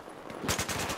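An M249 machine gun fires in the Battlefield 4 video game, a rapid burst of about five loud, close shots starting halfway through the second.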